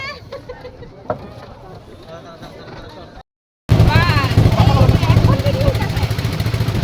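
A boat moving on water at a waterfall tourist spot: a steady broadband engine-and-water rumble runs under close conversation throughout, growing noticeably louder after a brief cut midway.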